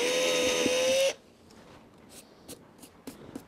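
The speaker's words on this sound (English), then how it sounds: "currently we are drilling holes into the wood that we want to repair through the fiberglass decking" A high-pitched power drill whines steadily for about a second, drilling holes through fiberglass boat decking into the wood beneath, then stops, leaving quiet room tone broken by a few light clicks and taps.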